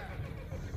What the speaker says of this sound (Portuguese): Lá vem os cavalos.